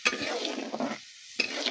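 Spice masala is stir-fried in a pan for a fish curry, a brief close sizzle broken by scraping stirs and a short pause, with no speech.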